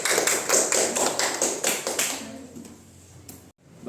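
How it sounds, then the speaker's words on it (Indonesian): Classroom applause in a quick run of claps that starts strong and tapers off over a few seconds, close and fairly loud, ending in a brief quiet gap. "berikan aplaus dulu kepada Tuti."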